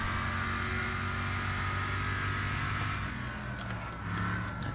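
A broken motorhome engine runs during a Wreckfest banger race, making a continuous droning hum with steady harmonics at moderate level, easing slightly near the end.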